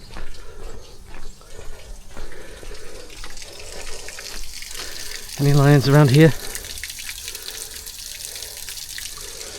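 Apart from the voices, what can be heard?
running water in a rock garden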